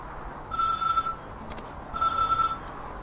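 A telephone rings twice in the Zak McKracken adventure game, each ring a bright electronic trill lasting about half a second, separated by a short pause and a brief click, with no talk over it.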